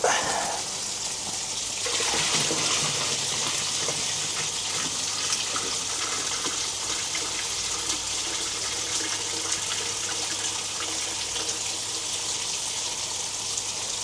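Water from a bucket gushes into a hydroponic NFT reservoir for strawberries, a loud, steady pour that starts with a burst and continues without pause for the whole stretch.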